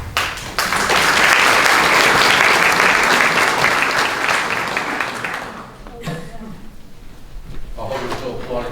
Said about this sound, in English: I hope you're still applauding me at the end.